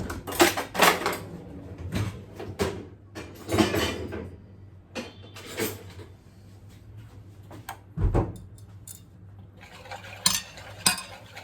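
A spoon stirs tomato paste in a cooking pot, with irregular scraping and clinking strokes that come and go at close range with no talk.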